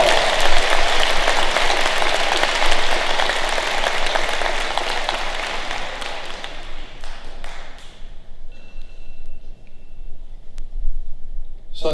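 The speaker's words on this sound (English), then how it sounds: "a round of applause" Audience applause at an eighth grade promotion ceremony, dense clapping from a crowd that fades out over several seconds into a quieter room with a few scattered taps.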